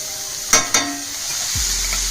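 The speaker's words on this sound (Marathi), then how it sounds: "आता आपण यामध्ये मटकीचे मोड जे गाळून ठेवले होते ते टाकून छानपैकी या सगळ्या मिश्रणात मिक्स करून घेऊया" Sprouted moth beans are tipped into a spicy frying onion-tomato mixture for usal and stirred: a steady sizzle broken by two sharp spoon knocks early on, then a low rumble building near the end, with no talking.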